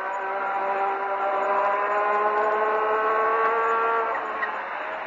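Race car engine holding a steady high-pitched note at around 150 mph in 4th gear through a right-hand sweep, heard as a continuous loud onboard drone with a slight pitch rise.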